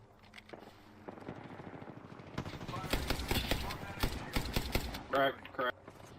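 Rapid bursts of gunfire from a battle royale video game crackle under nearby voice chat, with a dense stretch of repeated shots in the middle and a couple of louder electronic cues near the end.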